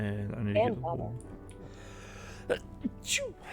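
A single short sneeze comes in the middle of relaxed indoor talk during a streamed game session, quiet and close, with speech before it.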